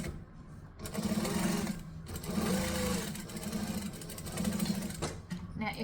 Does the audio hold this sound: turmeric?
no